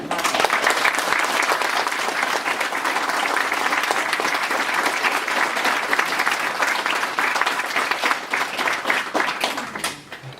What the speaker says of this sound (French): on va remercier Turgut, on va l'applaudir